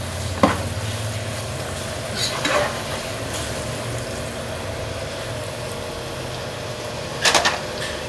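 Finely chopped carrots cook in a pan over low heat with a steady soft sizzle, broken by a few brief clinks and stirring scrapes, close and moderately loud with no talking.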